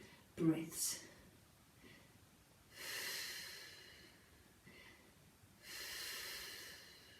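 Deep breathing during a Pilates stretch: a sharp nasal inhale, then two long, soft, airy exhales spaced apart, close and quiet, with no talk over them.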